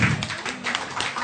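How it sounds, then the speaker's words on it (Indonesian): Audience applause at a church gathering, a steady wash of many hands clapping at moderate loudness, continuous for the whole moment with no voices over it. "tepuk tangan untuk Pak Luka Tambunan"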